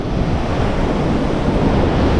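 Ocean waves at Praia do Porto beach in Barreiros, Pernambuco, on a rainy day, a loud, steady wash of surf mixed with wind buffeting the microphone, continuous and without speech.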